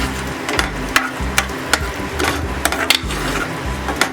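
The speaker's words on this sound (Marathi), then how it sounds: "ही बघा कोथिंबीर घालते आणि व्यवस्थित मिक्स करून घेऊया" A spoon stirs pav bhaji with butter and fresh coriander in a pot, scraping in a regular rhythm of short strokes over a soft sizzle, close and fairly loud with no voices.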